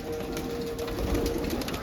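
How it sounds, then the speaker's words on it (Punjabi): Pigeons coo softly and steadily as they gather for scattered feed grain, over a constant background hum, with no voices. "ਦੇਖੋ ਬਾਈ ਕਬੂਤਰ ਕਿਵੇਂ ਆਉਂਦੇ ਨੇ"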